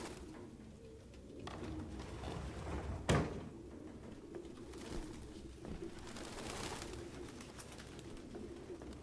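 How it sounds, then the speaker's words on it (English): Pigeons cooing inside a building in Detroit: Become Human, soft low repeating coos over a faint ambient hum, with one brief thump partway through and no talk. "for all the birds in here, I'm surprised there are also no dead birds"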